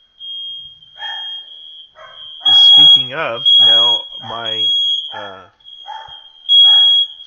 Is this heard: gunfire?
no